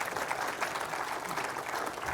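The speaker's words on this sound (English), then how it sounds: "round of applause for our advisors on stage" At a wealth planning summit, an audience claps for advisors on stage, a dense, even patter of applause held steady at moderate distance with no talk over it.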